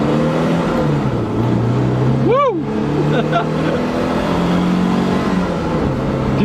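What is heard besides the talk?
1970 Alfa Romeo Giulia Super 1600 engine driving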